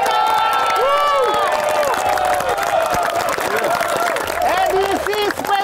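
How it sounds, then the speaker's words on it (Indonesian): Crowd cheering and applauding loudly at a military skills competition with armored vehicles at Cavalry Battalion 7, Cijantung, East Jakarta, with clapping and shouts running throughout alongside a host's voice. "Tepuk tangan dong."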